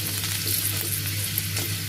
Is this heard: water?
no